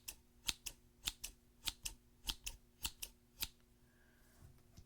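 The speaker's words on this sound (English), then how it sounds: "I hope that these are nice paper cutting sounds." Scissors cut paper in a run of about ten crisp, evenly spaced snips, very close and quiet, against faint background hiss with no talking.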